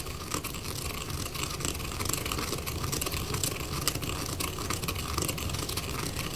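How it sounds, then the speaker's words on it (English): Dried chaga mushroom ground in a mortar with a pestle pressed and circled, a continuous close scraping and crunching grind with rhythmic gritty strokes, alone without talk. "I take the the pestle, I press in, and I go in a circle, and this will continue grinding this down into a fine powder"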